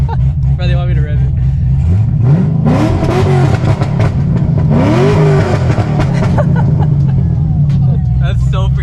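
Chevrolet Corvette Z06 engine revs hard twice, rising and falling blips from a nearby car with a steady low exhaust rumble, while a crowd chatters in the background outside a burger restaurant.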